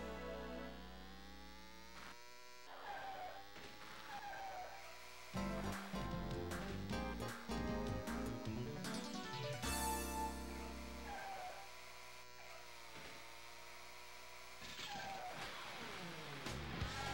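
Arcade-style race car engine whine in Virtua Racing on the Sega Saturn, with rising and falling pitch sweeps as the car slides and spins out, loud and continuous over backing music.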